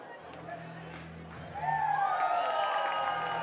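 Cheering and applause from a minor-league baseball crowd, Missoula Paddleheads on the road, swell after a souvenir foul ball, a distant, diffuse roar rising midway under a play-by-play voice.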